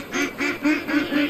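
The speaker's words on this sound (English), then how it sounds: "there's the ducks" Ducks in the Way of the Hunter hunting game quack in four or five evenly spaced bursts, close and fairly loud, with no voices over them.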